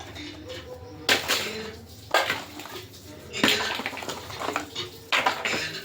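A spice storage container is picked up and set down several times, giving sharp clattering knocks and clinks against a hard surface, with someone talking softly between the handling sounds.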